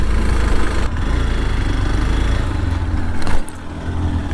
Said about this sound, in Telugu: మన బండి అడ్వెంచర్ కదా, ఈజీగా అయితే పైకి ఎక్కేస్తున్నది జమ్మని.